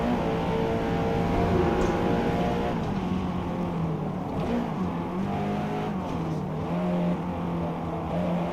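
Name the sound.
race cars driving in Forza video game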